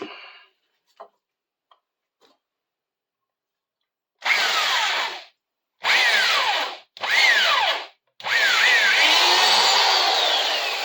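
An electric drill bores into a dense wooden broom handle in four loud bursts of about a second each, separated by short pauses, with a final longer run. A few faint taps come before the drilling starts.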